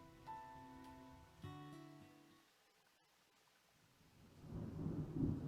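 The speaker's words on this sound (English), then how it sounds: "And that sound. Thunder snow is coming." A distant thunder snow storm rumbles in the video game Deadly Premonition 2, a low swelling roll building toward the end after sustained musical tones fade, faint and alone without talk.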